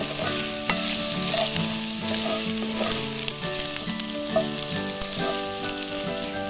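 Green chilies fry and are stirred in a pan of spiced paste for a mushroom thiyyal, a steady loud sizzle broken by scraping spoon strokes throughout, with no talking.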